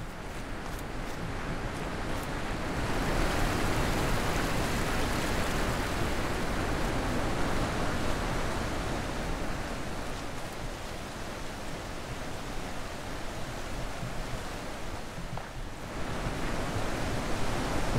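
Steady broadband rush of a waterfall and flowing stream in the video game The Witness, a continuous full wash of water noise holding at even loudness throughout with no voices.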